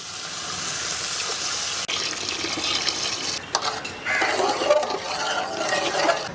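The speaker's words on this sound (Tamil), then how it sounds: "மாஸ்டர் தம்பி தண்ணி ஊற்றியாச்சு." Water runs and splashes steadily into a pot of fish soup in an outdoor village kitchen, a continuous close pouring sound with a brief break partway through and shifting tone as it fills.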